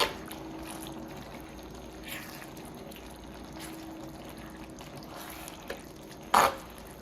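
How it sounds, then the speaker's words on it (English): Heavy whipping cream poured into a ground beef casserole makes a soft, quiet trickle, followed by a brief sharp clink near the end. "we're going to add about a 1/4 cup of heavy whipping cream."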